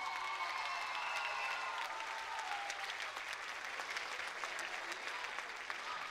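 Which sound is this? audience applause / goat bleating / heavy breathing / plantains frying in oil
audience applause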